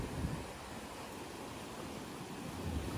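Sea waves wash onto Aare Ware beach, a continuous soft roar of surf mixed with wind, faint and distant, swelling slightly at the start and end.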